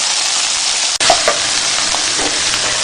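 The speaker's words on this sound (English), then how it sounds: "And now we'll add the coriander and the green chili peppers and stir it." Keema matar with peas, coriander and green chili sizzles steadily and loudly in a pan, with a spoon stirring through it and a brief drop in the sizzle early on.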